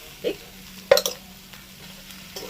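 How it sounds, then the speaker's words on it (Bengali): Soya rice stirred in a pan over low heat, a few close scraping and clinking strokes of a spoon against the pan amid a faint background hum. "শুধু মেশানোর দরকার হ্যাঁ শুধু মেশাবো দেখ"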